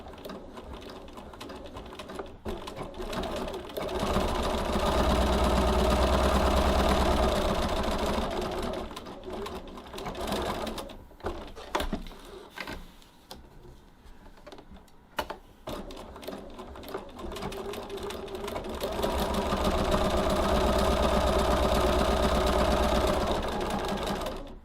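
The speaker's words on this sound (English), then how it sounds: "Now you don't need to stitch across the ends, just do down each long side." A sewing machine stitches down the long sides of tote bag strap tabs in two steady, close runs of rapid mechanical whirring, separated by a quieter stretch of fabric handling and clicks.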